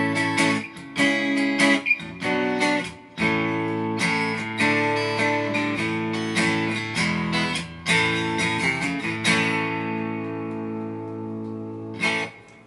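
Clean electric guitar with its P90 neck pickup mixed with a piezo pickup, a brighter, more acoustic-like edge, strummed chords and picked notes ringing out, closing on a long decaying chord.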